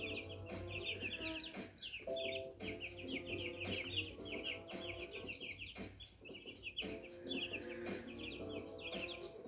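Baby chickens in a cage cluck and peep in quick, overlapping bursts, close and fairly faint, with a soft low hum underneath throughout.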